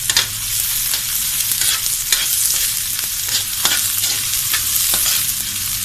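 Sliced onion sautéing in a small amount of oil for a classic pork menudo, with a steady close sizzle and repeated scraping stirs of a spatula against the pan, continuous throughout with no talking.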